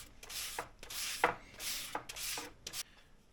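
Sandpaper rubs in short, rhythmic back-and-forth strokes along a diamond willow walking stick, close and fairly quiet, with about six scratchy passes and no talking.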